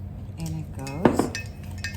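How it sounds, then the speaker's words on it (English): A metal utensil clinks and scrapes against a pot while teaspoons of rosemary and thyme are stirred into a turkey seasoning mix, with a few sharp close taps over about two seconds. "Mix it all well in there."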